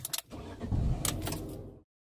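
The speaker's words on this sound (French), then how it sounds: "je mets le moteur en marche" A car engine starting up, a brief burst of cranking and rumble that settles into a short idle before cutting to silence, heard alone and close.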